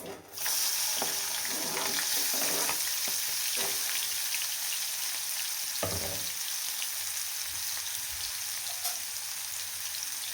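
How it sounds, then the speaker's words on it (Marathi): Onion frying in oil in a pan, a loud, steady close sizzle with occasional scraping stirs and clinks, no talk. "कांदा लवकर आपला तेलामध्ये छान परततो"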